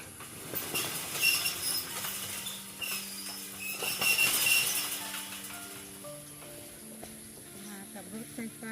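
A red electric train passes nearby outside a house, its broad rumble and rail clatter swelling and fading over about nine seconds while people talk over it.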